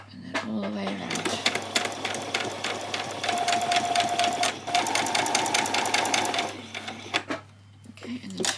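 Sewing machine back stitching and then stitching around a bodice seam, a rapid close mechanical needle chatter in a steady run with a brief pause, while a person talks over it.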